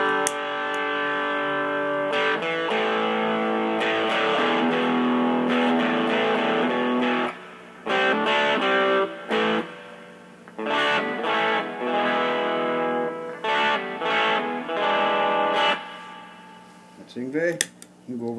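Electric guitar played through a DOD YJM 308 overdrive pedal with the distortion set at noon, giving sustained overdriven chords and notes in phrases broken by short pauses, loud and close with no talking.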